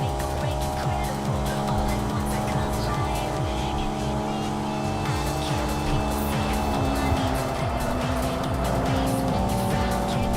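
Racing-game car engines on the Wangan stretch in Tokyo Xtreme Racer 3, featuring a Dam Supra, drone steadily with shifting pitch, tire squeal and passing cars, loud and continuous throughout.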